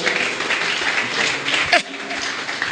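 A church congregation claps and cheers in acclaim of the Lord, a broad wash of applause sustained for a few seconds with a brief louder swell near the end, crowd voices mixed in.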